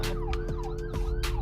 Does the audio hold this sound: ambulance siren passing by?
yes